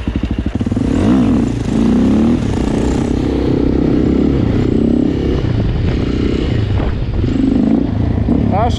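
Engine of a DRZ400E dirt motorcycle during a wheelie, a loud, close, continuous buzzing drone that surges in pitch with revving and settles back toward idle several times, with a voice talking over it.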